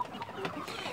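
Hens of a Peruvian creole breed, kept at home and about to lay eggs, cluck in short soft bursts close by, with no one talking.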